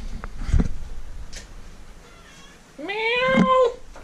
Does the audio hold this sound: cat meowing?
yes